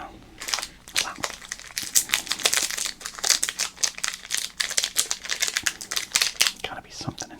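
Baseball card pack wrappers crinkle up close as they are torn open one after another, making dense bursts of crisp rustling and crackling at a steady handling rhythm, with no talk.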